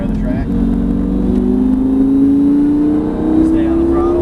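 A Lamborghini Gallardo accelerates on a race track, its engine note climbing steadily and loudly in a single sustained pull while an instructor speaks over it.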